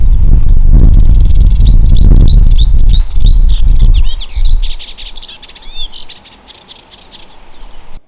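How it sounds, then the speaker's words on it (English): A melodious warbler sings a fast run of bright repeated chirping notes over heavy rattling rumble, then keeps twittering more faintly as the noise fades, alone without talk. "Upon arrival, the melodious warbler is singing in full force"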